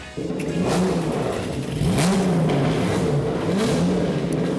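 A race car engine firing up and revving at Yas Marina Circuit in Abu Dhabi, a loud, close, sustained mid-pitched drone that rises and falls in pitch without a break.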